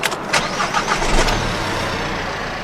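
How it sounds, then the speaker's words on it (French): A car engine running on diesel fuel made from plastic waste, a steady mid-pitched engine rumble heard close up with a few sharper bursts at the start, no talking. "Avec du plastique, notre voiture marche tout aussi bien."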